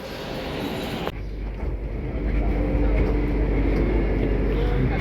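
A metro train rolls along with a steady low rumble and hum, growing slightly louder and heavier after a sudden shift in the sound about a second in.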